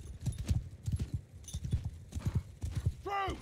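Cavalry horses gallop across a battlefield in the video game Bannerlord, a steady drumming of clip-clop hooves at close range, with a horse whinnying near the end and voices talking over the riding.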